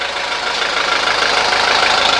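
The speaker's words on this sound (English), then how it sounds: "You see the engine has just a bare little shake to it." A 1983 Mercedes 240D diesel engine, freshly fitted with new motor mounts, idles with a steady, loud, close clattering rumble and a fine rapid knock throughout.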